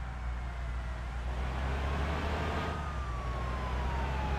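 A police or ambulance siren wails past a bus on the road, its rising and falling tone fairly faint over the steady low rumble of the bus engine, with no talk.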